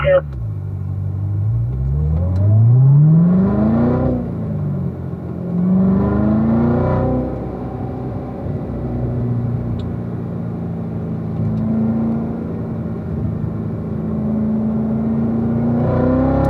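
A race car's engine rises in pitch as it pulls away and accelerates on track, revving up through two gear pulls before settling into a steady, droning cruise close by, with a voice talking over the engine at times.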